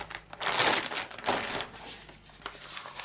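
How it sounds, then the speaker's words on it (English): A plastic bag holding the sprues of an Airfix Meteor FR.9 model kit crinkles and crumples in close, loud bursts that come and go over a few seconds, with no voices. "one plastic bag with all the sprues in, plus another plastic bag inside with the transparent parts in"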